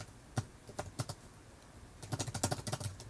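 Keys clack on a computer keyboard as a list name is typed: a few scattered strokes, a pause, then a quick burst of closely spaced taps, quiet and near.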